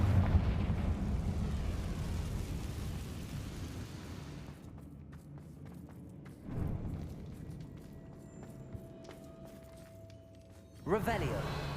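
Confringo fire spells in Hogwarts Legacy go off as rumbling explosions: a long roaring burst at the start that slowly fades, then two further heavy thuds later. Vocal sounds blend into the mix.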